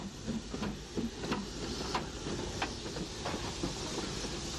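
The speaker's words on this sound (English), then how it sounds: "Number 57, the last of the WTs to be built, has arrived with a train" WT class steam tank locomotive number 57 arriving with a train at Warrenpoint in 1964: faint, irregular clanks and metallic knocks over a low rolling rumble, heard from a distance in an old recording.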